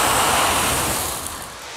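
A grease fire in a kitchen flares up violently as water hits it, a loud, dense roaring whoosh of flame that holds steady and then eases off slightly, with no voices.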